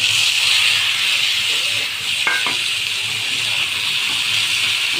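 Tomatoes drop into chopped onion frying in a hot pan: a loud, steady sizzle and hiss throughout, broken midway by a brief clatter as they land.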